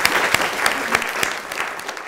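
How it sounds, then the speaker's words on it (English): A room of people applauds for a newly arrived professor at a university computational chemistry event, a dense, steady patter of many hands with sharper individual claps poking through, fairly close and continuous throughout. "Let's give a great round of applause for Joe having come to the university"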